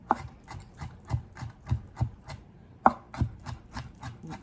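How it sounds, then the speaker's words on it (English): A knife minces pickles on a cutting board for relish, giving a steady run of close, crisp chopping knocks at a quick, even rhythm with no voices. "take our knife, and then go back across and really mincing those"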